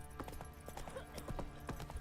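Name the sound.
Roach the horse trotting in The Witcher video game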